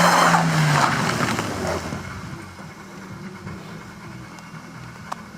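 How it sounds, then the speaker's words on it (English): A car turns around on a hill with a loud burst of tire skidding and engine revving at the start, then fades into a quieter engine rumble, all close by. "That's how you turn around a car on a hill."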